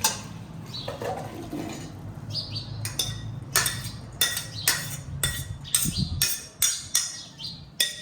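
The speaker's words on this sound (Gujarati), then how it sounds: "હવે રાજમામાંથી વધારાનું પાણી આપણે આવી રીતે કાઢી લઈશું" Boiled kidney beans (rajma) drained of their excess water in a kitchen, with a run of sharp metallic clinks and taps of a pot or lid in quick irregular succession over a faint watery trickle.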